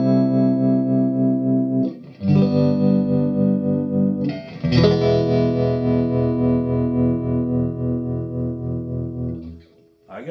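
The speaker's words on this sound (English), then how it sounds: "Let's see what the tremolo sounds like." A Vox AC15C valve guitar amp with 3 ECC83/12AX7 and 2 EL84 tubes, its tremolo engaged, rings out sustained strummed guitar chords in a few loud, close phrases with a gentle, quiet pulsing throb.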